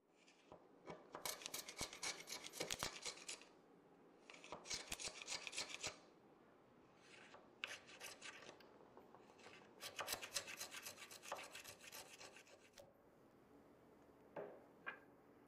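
A rasp files out the corners of a hidden-tang hole in a wooden chef's knife handle, in repeated bursts of close, scratchy back-and-forth strokes separated by brief pauses.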